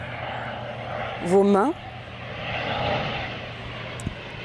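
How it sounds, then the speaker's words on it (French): A propeller airplane passes overhead during a yoga session, a steady low drone spread across the whole clip, broad and distant, while someone speaks instructions in French over it. "Je vais laisser passer l'avion."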